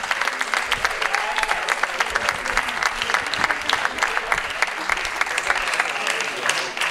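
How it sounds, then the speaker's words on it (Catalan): An audience at an elastic performance show bursts into sustained applause, a thick, even wash of many clapping hands heard close and loud throughout. "Un aplaudiment per ella."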